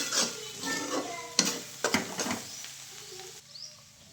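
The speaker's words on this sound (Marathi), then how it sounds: "तिखट टाकून चांगलं हलवलं" Vegetable curry with red chili powder is stirred in a pan, giving scattered scraping clinks and a few sharp spoon knocks over a faint, steady sizzle, with no talking.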